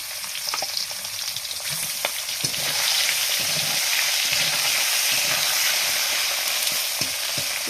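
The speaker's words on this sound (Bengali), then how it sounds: "এই মাছগুলো আগে ভেজে নেবো ভালো করে" Bhangor fish heads frying in a kadai with a little oil, a dense, steady sizzle with crackles and occasional stirring clinks, close and fairly loud throughout with no voices.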